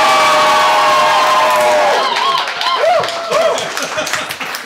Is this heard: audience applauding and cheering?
yes